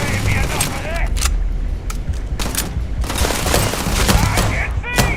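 Gunfire in Starfield: a loud, steady barrage of rapid shots mixed with sharp bursts and booms, continuous throughout with brief shouted voices over the top.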